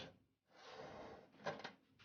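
A plastic hard drive tray slides in the tray bay of a Cougar Gemini S computer case with a soft scraping glide, ending in a couple of light clicks; no talking.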